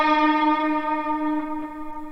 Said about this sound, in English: So that's that octave bend that you hear in the chorus,